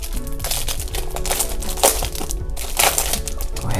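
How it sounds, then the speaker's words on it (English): Plastic packaging crinkles and crackles as a CHESONA iPad Pro 12.9-inch keyboard case is popped free, a steady close rustle with sharper crackles near the middle and end. "go ahead and pop this out of the plastic here."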